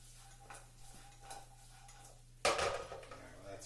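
A stir fry tossed in a pan over high heat: a few light metallic clinks, then a sudden loud rush of sizzle and clatter as food hits the hot pan, fading slightly afterward.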